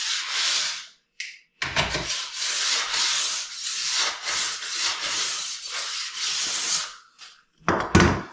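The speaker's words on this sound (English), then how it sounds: "Get all the burrs off the edges." A sharpening stone is drawn along steel ski edges to remove burrs, producing loud, close, continuous rasping strokes in long sweeps broken by brief pauses, with no voices over it.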